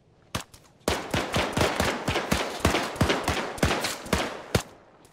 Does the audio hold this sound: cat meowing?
no